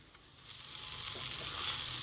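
Daliya (broken wheat) roasting in a pressure cooker, giving a steady, soft sizzle and crackle that slowly grows a little louder, heard alone without talk.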